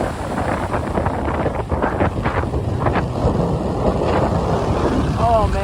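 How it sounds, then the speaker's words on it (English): Strong, steady wind buffeting outdoors in Miami after Hurricane Ian, a continuous roaring rush with gusty swells and microphone buffeting throughout. "that wind must be like 40 miles an hour at least"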